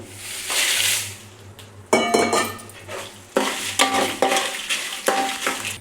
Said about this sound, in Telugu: ఇప్పుడు ధనియాలు వేసుకోవాలి, మెంతులు, మిరియాలు కొద్దిసేపు వేగించాలి.